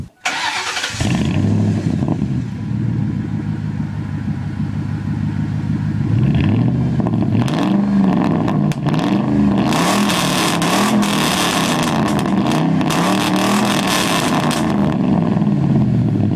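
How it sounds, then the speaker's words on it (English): A loud, deep engine of a 1998 Ford F-150 pickup with straight pipe exhaust rumbles steadily, then revs up in repeated surges, the exhaust growling harshly and close by with no talking. "I opted to change it to straight pipes to make it a little bit louder"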